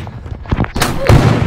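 Gunshot in the Roblox game Fortnite, a couple of loud close bursts with a noisy tail, under a brief voice.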